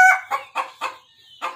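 A rooster and hens cluck in a run of five sharp, evenly spaced calls, close and loud, with a brief thin tone between the last two.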